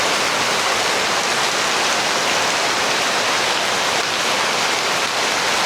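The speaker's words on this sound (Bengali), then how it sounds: "আজকে মুষলধারে বৃষ্টি হচ্ছে।" Torrential downpour pouring without a break, a dense, even hiss of heavy rain that stays loud and close the whole time, with no voices.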